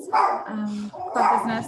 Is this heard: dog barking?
yes